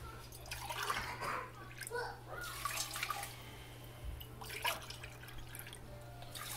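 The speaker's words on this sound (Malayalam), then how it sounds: "നമുക്കിതിലേക്ക് ആവശ്യത്തിനുള്ള വെള്ളം ആഡ് ചെയ്ത് കൊടുക്കാം." Water is poured into a cooking pan holding jaggery, giving faint, intermittent splashing trickles and drips at low level, with a soft voice in the background.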